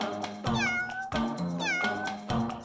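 A cat meows repeatedly in two clear, fairly loud calls with rising and falling pitch, heard alone against a light steady background.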